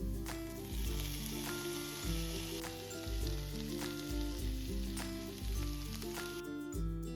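Paneer cubes fry in a pan of cooked-down masala, a soft continuous sizzle broken by repeated low scraping and stirring strokes, close and fairly quiet.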